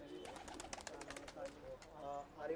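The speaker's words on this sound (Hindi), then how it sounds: "आज हम दिल्ली वाले आरिफ भाई के आपको काले दुबाजू का शौक कराएंगे।" Black pigeons kept by a Delhi breeder coo softly at close range, with faint throaty calls overlapped by someone talking.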